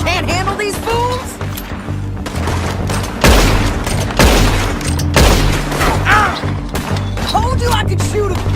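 Gunfire in the video game Red Dead Redemption 2, a dense loud fusillade of overlapping rifle and pistol shots with heavy booming impacts, continuous across the scene while voices shout and talk amid the firing.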